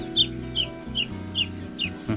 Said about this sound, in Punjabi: ਇਹ ਚਕੋਰ ਦਾ ਹੀ ਆ ਬੱਚਾ ਆ ਦੇ ਇਹਦੀ ਆਵਾਜ਼ ਲੱਗੇ ਆ